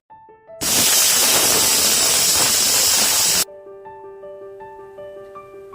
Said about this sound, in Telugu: ఇప్పటికైతే 5 విజిల్స్ వచ్చాయండి.